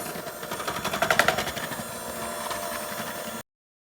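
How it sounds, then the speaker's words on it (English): An electric hand mixer blends cola cupcake batter, a dense buzzing whir with rapid rattling pulses that swell loudly in the first seconds, then settle into a steadier hum before cutting off abruptly. "Turn on my hand mixer, and then mix."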